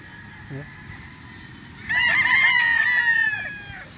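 A rooster crows loudly and close by, a long harmonic cry lasting about two seconds, with faint farmyard sounds and a short cluck before it.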